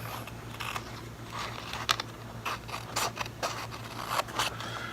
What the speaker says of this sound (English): We'll be trimming with our scissors again.